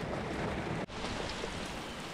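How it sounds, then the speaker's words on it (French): Steady heavy thunderstorm rain pours down, a dense continuous hiss with a brief dip partway through; no voices. "Il y a juste un orage qui vient d'arriver."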